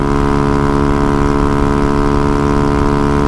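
A Honda Ruckus scooter fitted with upgraded gears holds a high-revving engine note, a loud, dense, buzzing drone with strong harmonics that stays steady and close for the whole stretch, with no voices over it.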